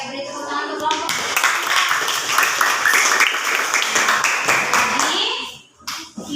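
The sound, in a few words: classroom applause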